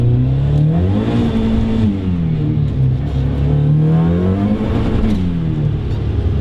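A turbocharged Mazda Miata revs hard under acceleration with its wheels spinning, a loud, close engine note that rises, dips and climbs again for several seconds with no talking.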